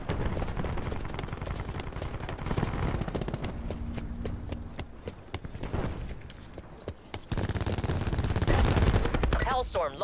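Automatic and single gunshots crackle through Call of Duty: Black Ops 4 multiplayer action, fairly loud and continuous, with bursts dense near the start and end and game announcer effects mixed in.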